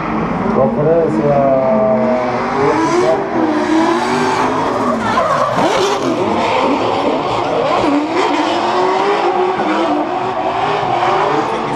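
Drift cars at Drift Allstars Estonia 2015, top 16 tandem battle: loud, continuous engine roar and revving with tire squeal and skidding as the cars close in, with excited commentary running over it.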